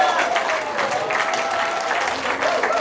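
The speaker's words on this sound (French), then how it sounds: "C'est important d'applaudir ces dons, c'est très important." An audience at a humanitarian conference applauds a 250,000 Canadian dollar donation pledge, with steady, dense clapping for about three seconds while a voice carries on over it.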